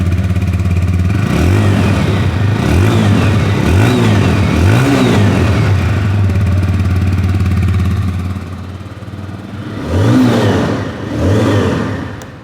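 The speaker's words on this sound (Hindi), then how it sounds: "चलिए मैं आप लोग को यहाँ पर इसकी जो एग्जॉस्ट नोट है वो भी सुना दूँ।" A TVS Apache RTR 160 2V motorcycle revs repeatedly near the exhaust, a steady bassy idle broken by a series of rising throttle blips, then two louder revs after a brief dip.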